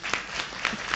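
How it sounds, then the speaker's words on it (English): Applause from an audience at a high school debate, a steady dense wash of many hands clapping at moderate distance with a few louder individual claps standing out. "Ladies and gentlemen, a round of applause for Becca and Patricia."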